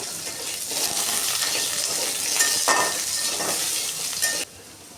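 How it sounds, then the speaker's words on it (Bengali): Loud sizzling of potatoes frying in oil with five-spice and dried red chili, with stirring and clinks of a utensil against the pan, cutting off abruptly near the end. "নাড়াচাড়া করে আলুটাকে ভালো করে ভেজে নিতে হবে।"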